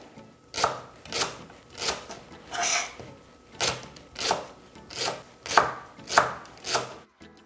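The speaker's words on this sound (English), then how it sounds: "I like to cut them into rings and then wash them afterwards." A knife chops leeks into rings on a cutting board, with about ten distinct, evenly spaced strokes, each a crisp thud-and-slice, close and clear with no talking.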